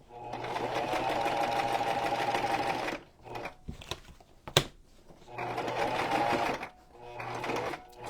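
A sewing machine stitches a junk journal cover in two loud, steady runs of rapid whirring and clatter, separated by a pause filled with small clicks and handling sounds.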